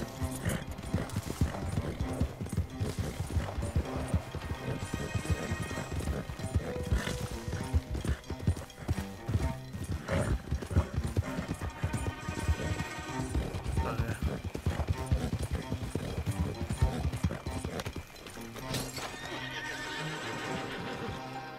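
Horse in the Red Dead Redemption 2 video game neighing with clip-clopping hooves, loud and continuous over dense game sound and music, with a voice talking throughout.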